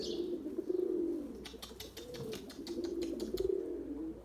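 Pigeon cooing in soft repeated low phrases, with a white male pigeon flying alone overhead; a few brief flutter-like bursts sound mid-clip, moderately near and without talk.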